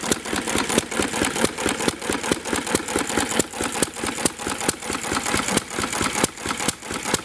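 A McCormick Deering M tractor engine runs on its first start after restoration, a loud, close, rapid chugging beat of even exhaust pulses that holds steady throughout, with no talk.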